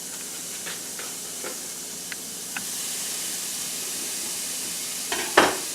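Cheese-stuffed burger patties sizzle on a grill set to medium-high, giving a steady, fairly quiet hiss with a few faint pops and crackles, then a brief louder spatter near the end.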